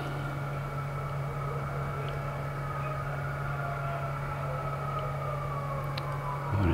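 A police siren wails steadily in a street, a sustained loud tone over constant traffic drone, swelling slightly near the end.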